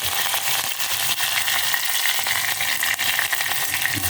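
Curry leaves dropped into hot oil crackle and sizzle steadily and loudly, a dense continuous frying hiss close up, with no voice over it.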